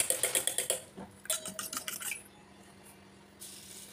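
A spoon beats two eggs in a bowl for a banana cake, making quick, bright rhythmic clinks against the bowl for about two seconds, then slowing and fading, close and fairly quiet with no speech.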